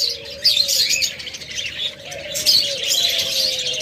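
Caged pet birds, diamond doves and cockatiels, chirp in quick, bright bursts close by, over a low, steady cooing tone.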